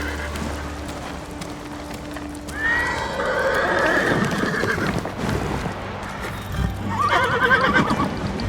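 Horse neighing in the video game Ghost of Tsushima, a loud whinny rising and falling twice over a steady background hum, with a softer second call near the end.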